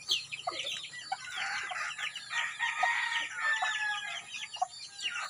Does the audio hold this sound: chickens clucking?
yes